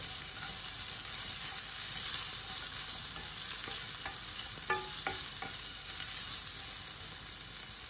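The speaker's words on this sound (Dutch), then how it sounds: "De knoflook die ga ik even aanbakken" Garlic sizzles and crackles in a hot pan with a steady frying hiss, broken by a few scraping stirs partway through, and no voices.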